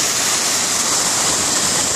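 Flood water surges over the pier at Port Dover in November 2015 with a loud, dense, continuous rush and roar, close and steady, with no voices over it.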